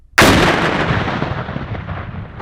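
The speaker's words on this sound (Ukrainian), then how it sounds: "підірвали дві бойові частини знешкоджених ворожих шахедів" A sudden, powerful blast from the controlled detonation of two Shahed drone warheads breaks a quiet moment. Its heavy roar rolls on and slowly fades away over the next couple of seconds.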